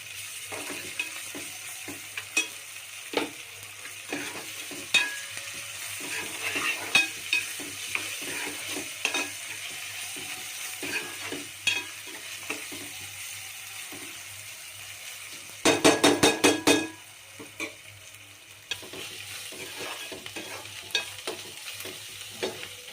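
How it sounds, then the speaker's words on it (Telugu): Onion, ginger and garlic frying in a pan for a country chicken pulao: a soft, steady sizzle under frequent scraping stirs, with a brief burst of louder metallic clatter midway. "కాస్త అల్లం వెల్లిపాయ మిగిలించుకున్నాం కదా అది ఇందులో వేసి ఫ్రై చేసుకోవాలి"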